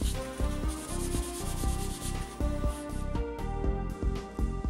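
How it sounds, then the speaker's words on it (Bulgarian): A polishing file buffs the underside of a natural fingernail during gel nail maintenance, a close, rhythmic rubbing in quick regular strokes with no talk. "Излъскваме идеално естествения нокът от долната страна."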